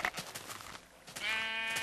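A Minecraft sheep bleats in the game, a single drawn-out wavering cry rising clearly over soft background game sounds near the end.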